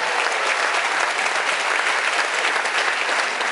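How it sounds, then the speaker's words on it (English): Steady, dense applause from a game show audience, loud and sustained throughout with no talk over it. "how about a big round of applause?"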